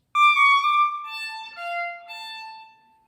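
A darker, later appearance of a Bach theme in Ysaÿe's music sounds as a slow descending line of sustained, resonant notes that fades gently at the end, with no talking.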